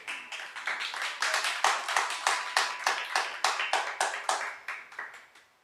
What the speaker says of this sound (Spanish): ¿Qué tal si le da unas palmas al Señor entonces?